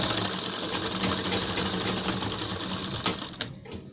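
A sewing machine stitches along a black-fabric kurta collar, its steady whirring run continuing for several seconds before a few brief clicks and a stop near the end.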